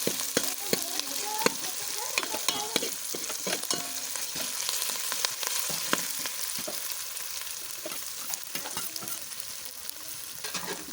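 Masala with curry leaves sizzling and frying in a pan while a spoon stirs it, a continuous crackle punctuated by scraping taps, close and steady with no voices.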